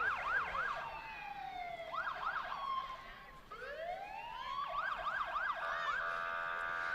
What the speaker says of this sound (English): I still hear the sirens.